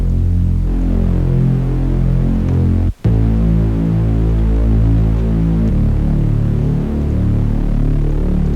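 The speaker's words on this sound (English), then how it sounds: "All you need is just a Serum oscillator, put it on 60, detune it, and filter it." Reese bass synth for hip-hop built from a single Serum oscillator set to 60, detuned and filtered, droning loud and steady with a throbbing low hum and one short cut near the three-second mark.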